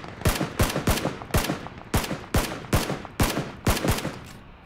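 Gunfire in PlayerUnknown's Battlegrounds: a steady string of about thirteen sharp, loud single shots spaced roughly a third of a second apart, each with a short echoing tail, and no talking.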